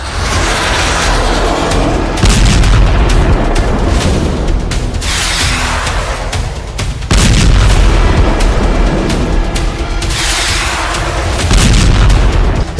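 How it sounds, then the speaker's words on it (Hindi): Heavy bombardment strikes Hezbollah positions in Lebanon. Loud booming explosions repeat every few seconds over a constant rumbling roar, with no speech. "हिजबुल्ला के ठिकानों पर हुई भयंकर बमबारी इसी ऑपरेशन का हिस्सा है।"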